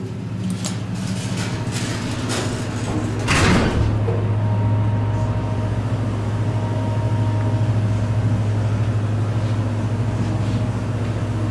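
A Dover elevator with its doors sliding shut, a brief rumbling clatter near the start, followed by a steady low motor hum as the car rises, loud and close with no talking.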